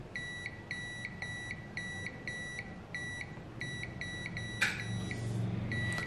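A multimeter in continuity mode beeps repeatedly while probing the windings of an electric motor, a dozen or so short, evenly spaced high tones standing out against a steady low hum, with a brief clatter near the end.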